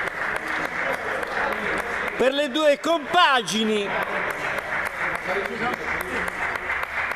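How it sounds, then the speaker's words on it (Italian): Spectators at a CSI five-a-side futsal league match applauding both teams after a 5-4 result, continuous clapping in the background while a commentator talks over it. "Applausi"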